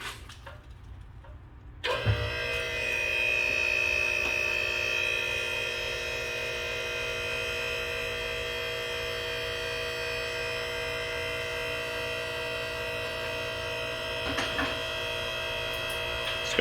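An electric car lift raises a Nissan R32 Skyline by remote: after a brief quiet start a motor switches on with a thump and settles into a steady, close electric whine and hum that runs on unbroken.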